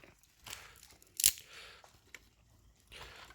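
Bamboo shoots are peeled by hand in a rural outdoor setting, giving quiet intermittent rasps and tearing scrapes plus one sharp crisp crack partway through.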